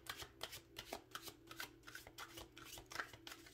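A deck of tarot cards is shuffled by hand, giving quick rhythmic riffling flutters and soft taps in repeated bursts, close and faint, with no voices.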